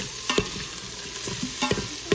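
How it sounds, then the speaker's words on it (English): Stirring and scraping eggs in a hot pan over a steady sizzle, with a few sharp utensil knocks on the pan's surface. "And then we're starting to sizzle in here."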